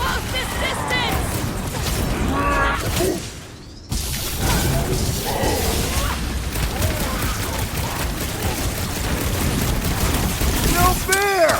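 Rapid sniper and weapon fire in the Guardians of the Galaxy video game, dense bursts of shots, whooshes and impacts continuing throughout with a brief lull, mixed with game voices.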